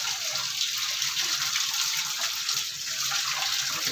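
Water runs steadily from a household tap, a continuous close hiss and splash lasting throughout, with no talk over it.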